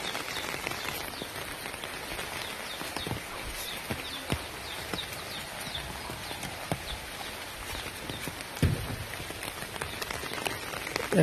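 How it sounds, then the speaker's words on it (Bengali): Heavy rain pelting a road, a steady hiss of drops striking the surface with scattered patter and occasional knocks, no voices. "এত বৃষ্টি"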